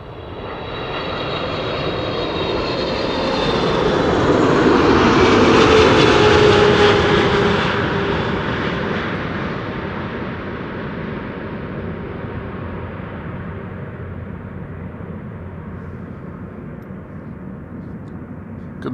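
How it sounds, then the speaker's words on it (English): A KLM Boeing 777-300 arriving from Cape Town at Amsterdam Schiphol passes overhead, its jet roar building to a loud peak near the middle and then fading into a long, steady rumble, with no talking. "Quick turn back to the second consecutive 777-300. This is KLM Flight 598 arriving from Cape Town"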